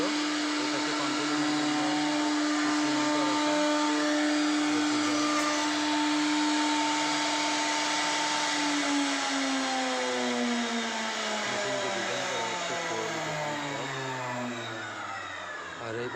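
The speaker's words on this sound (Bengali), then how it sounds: "ডিজিটাল মেশিনে ডিজাইন নকশা করা হচ্ছে" A CNC router carves a design into a wooden door panel, a loud, steady whine with a sustained tone that slowly shifts pitch as the bit moves through the wood, with a voice faintly beneath it.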